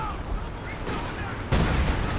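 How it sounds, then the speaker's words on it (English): Major artillery barrage in Company of Heroes 2, with steady rumbling shellfire and a sudden heavier impact roughly two-thirds of the way through, loud and continuous. "That was a Vet 3 major artillery"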